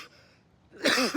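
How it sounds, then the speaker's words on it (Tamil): A single harsh cough bursts out near the end, loud and close, after a quiet stretch. "சாரி ஃப்ரெண்ட்ஸ், கொஞ்சம் பனி அதிகமாக இருக்கா, அதான் ரொம்ப இருமல்"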